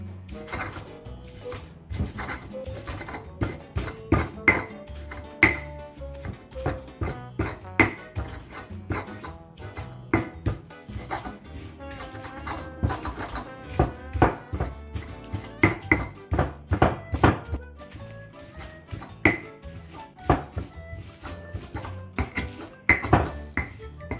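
Jengkol rendang spices being pounded with a mortar and pestle, giving a steady run of close, sharp stone knocks and scraping taps in an irregular rhythm, with no talk over it.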